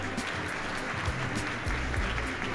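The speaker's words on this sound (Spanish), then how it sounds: "fuerte el aplauso." Audience applause at an arts award ceremony in Argentina, a dense steady wash of clapping with no talk.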